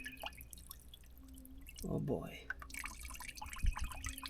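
Water drains and drips from an emptied Kubota tractor radiator, with a burst of splashing midway and scattered drips after, fairly quiet, and someone briefly speaks.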